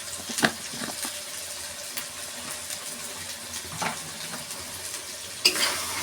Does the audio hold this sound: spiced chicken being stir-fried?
yes